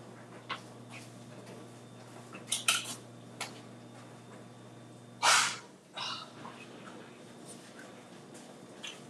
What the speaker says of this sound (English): we are going to get a knife and cut these apples